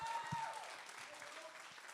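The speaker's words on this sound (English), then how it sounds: "I do want to give a round of applause to our amazing coaches and Discord manager, Tyler, Victoria," Audience applause at a creator mastermind event, a dense, steady wash of clapping from a crowd that holds fairly even in loudness throughout, with a faint tone and some low thumps underneath.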